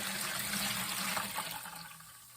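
White wine poured from a sterilized pot into a fermenter, a steady gushing splash of liquid that tapers off toward the end, close by with no talk.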